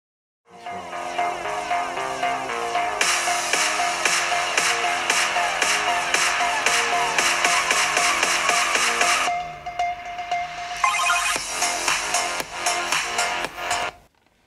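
Music test track played through the two downward-firing speakers of a Samsung Galaxy Book3 360 laptop at 60% volume, a steady, full mix that drops briefly to a thinner section before returning, with no talking.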